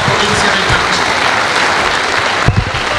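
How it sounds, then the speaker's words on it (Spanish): A crowd gives loud, dense, sustained applause for a newly introduced provincial governor in Ecuador, with a steady wash of clapping and a brief louder burst near the end. "Tributamos con un fuerte aplauso al nuevo gobernador de"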